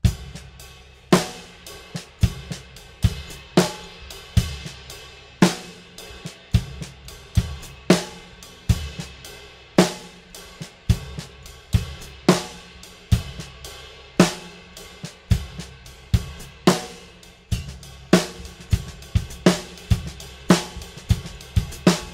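Funky drum groove played slowly on a drum kit, with sharp snare and kick accents in a steady repeating pattern over a busy cymbal wash, close and dry, without any voices.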